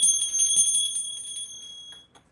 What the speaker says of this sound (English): you always want to have a bell to call in only higher vibration spirits